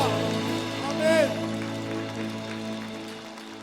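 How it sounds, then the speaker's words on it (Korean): Church congregation applause during a Sunday worship service, a dense, steady patter of many hands clapping together under music and voices. "다시 오실 주님께 박수합시다."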